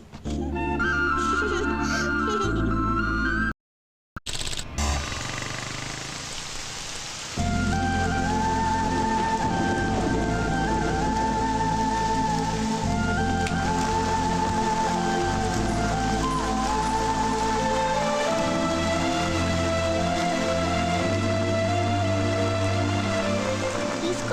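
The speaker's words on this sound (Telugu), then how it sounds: "వర్షంలో తడుస్తున్నాం కదా" Rain falls steadily outdoors as a continuous dense hiss for almost the whole stretch, broken only by one brief dropout, with faint tonal sounds layered over it.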